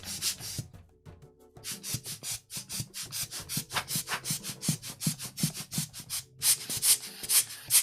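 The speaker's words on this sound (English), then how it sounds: "Dust the turntable as well." A turntable and its studio gear being dusted and wiped, with steady rhythmic rubbing and brushing strokes, close and fairly loud, broken by a brief pause before the strokes resume.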